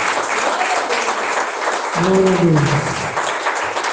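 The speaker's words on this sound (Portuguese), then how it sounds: "Vamos receber a pastora Nadir com palmas bem fortes para Jesus." A church congregation claps continuously and steadily, filling the room, while a voice calls out briefly over the applause.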